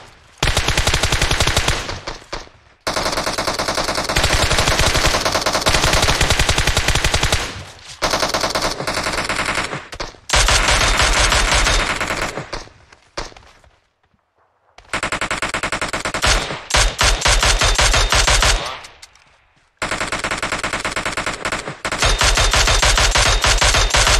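Sustained automatic gunfire in PUBG Mobile played on an emulator, long loud bursts of rapid shots separated by brief pauses, harsh and close, filling the mix.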